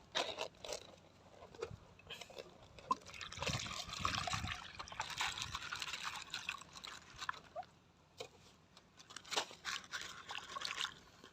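Cucumber seeds being washed in water, with faint sloshing, trickling and dribbling sounds that come and go irregularly, fairly quiet and close.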